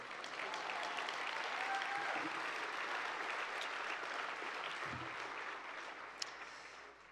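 Gala dinner crowd at the 2019 JUNO Awards applauding a humanitarian award, sustained broad clapping heard from some distance, steady for several seconds and tapering slightly near the end.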